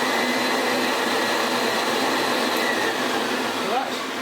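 A restored Hoover Senior 6525e upright vacuum cleaner runs with a steady, loud motor whine and airflow roar that holds constant throughout, with no pauses.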